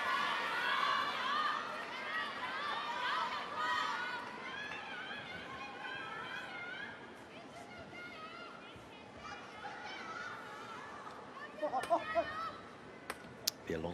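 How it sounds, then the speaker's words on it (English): A packed table tennis arena crowd at an Asian Cup semi-final roars and cheers loudly after a rally, the dense crowd noise slowly easing, with scattered sharp claps and shouts near the end. "Be a long wait for this crowd to settle."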